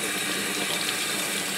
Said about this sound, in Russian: Используйте обычную воду под крана, можно тепленькую